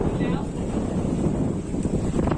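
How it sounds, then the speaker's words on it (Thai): Strong wind buffets the microphone while fishing from a floating raft in the Khao Laem area, a loud rumbling roar filling the low end throughout, with voices talking faintly beneath it. "ลมแรงจริง ๆครับ"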